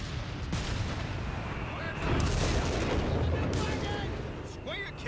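A 3-inch gun fires amid a Company of Heroes 3 battle between Afrika Korps and US forces: a dense, continuous roar of booming shots and explosions that swells louder about two seconds in and stays heavy.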